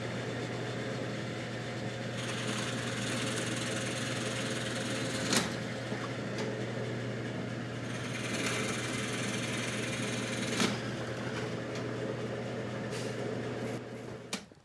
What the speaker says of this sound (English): drill out the end of the other slot.